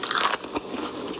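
Someone bites into crunchy lettuce, giving one loud, close crunch followed by a quieter crackle of chewing, with no talking.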